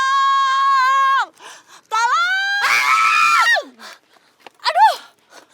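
A woman screams loudly and repeatedly in an Indonesian drama scene, long piercing wails broken by shorter strained cries and gasps, close and very loud.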